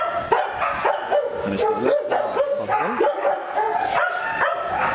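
Dogs at a pet boarding farm, playing outdoors, bark and yip in a steady, overlapping chorus nearby, with a few whimpers and brief talk mixed in.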